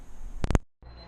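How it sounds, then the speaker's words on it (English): A kitchen cooking timer alarm goes off while a gingersnap-crusted city ham bakes, giving three quick, loud electronic beeps in close succession before a short silence, with no talking. "I'm gonna put a timer on just to see how long this is in there for."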